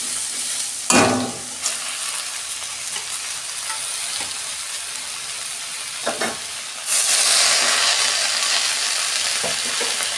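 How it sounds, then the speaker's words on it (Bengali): Leafy greens tipped into a pan of fried vegetables for a Bengali greens dish, giving a steady sizzling hiss with a few scraping stirs; the sizzle jumps louder near the end as the fresh leaves hit hot oil. "শাকগুলো এবার দিয়ে দিচ্ছি"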